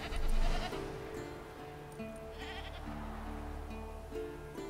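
A goat in The Witcher 3 gives a short, close bleat at the start, followed by quieter ambient sound with faint tonal hums.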